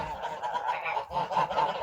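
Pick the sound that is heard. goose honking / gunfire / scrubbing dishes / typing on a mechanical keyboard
goose honking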